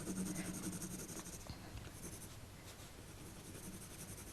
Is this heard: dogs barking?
no